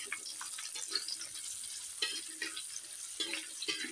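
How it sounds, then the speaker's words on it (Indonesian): Petai beans frying in hot oil, a faint continuous sizzle with intermittent crackling bursts and soft stirring scrapes, close by and without talk. "nanti petainya ini jika digoreng terlebih dahulu rasanya akan lebih gurih dan lebih crunchy"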